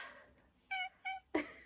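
Pet cat meowing indoors, three short clear meows in quick succession, the last one sharper and louder, fairly close and with no talk over them.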